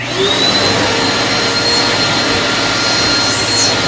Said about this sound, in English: So plug in the vacuum cleaner